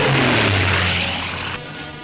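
Piston engines of WWII fighter and bomber aircraft in a 1940 film drone loudly and steadily, a low throbbing roar that eases slightly toward the end, with no voices.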